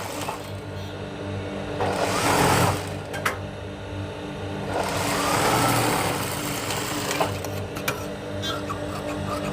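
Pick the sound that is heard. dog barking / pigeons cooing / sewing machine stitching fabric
sewing machine stitching fabric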